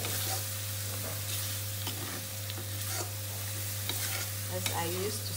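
Masala cooking in hot oil for a mutton liver dish, a steady close sizzle with a constant hum beneath and occasional light scrapes of stirring, no speech.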